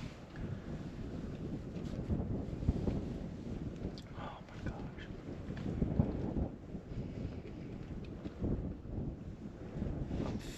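Strong gusting wind in a ghost town roars and buffets against the microphone, rising and falling in waves for several seconds at a moderate level.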